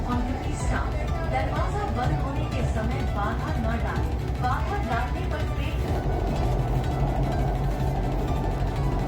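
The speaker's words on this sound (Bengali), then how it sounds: "ট্রেন এখন নদীর নিচে দিয়ে চলেছে।" A Kolkata metro train travelling from Sealdah to Howrah through the tunnel beneath the Ganga river gives a steady, loud rumble inside the carriage, with passengers chattering throughout.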